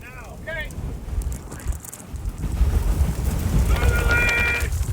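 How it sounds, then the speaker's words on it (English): Roaring tornado wind buffets storm chasers' vehicle during a direct intercept in southern Minnesota near Truman, a loud continuous rushing that builds in the second half, with brief voices near the start and a whining tone late. "You're in the tornado, Jesse."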